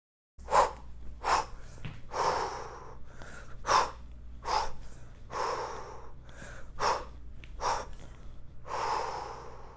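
Sharp rhythmic exhales from a person doing kettlebell snatches, about a dozen forceful breaths in steady repeating groups, close and loud with brief pauses between.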